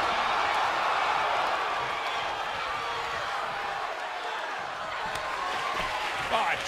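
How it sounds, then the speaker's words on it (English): A WWE 2K22 arena crowd roars in a steady, dense wash of cheering noise, with a few faint thuds near the end while commentary voices talk over it. "What a raucous crowd here tonight."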